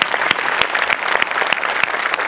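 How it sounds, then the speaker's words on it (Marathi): A live comedy-show audience claps loudly and continuously, a dense burst of applause. "सो आपल्या शो करता एकदा जोरदार टाळ्या वाजवूया"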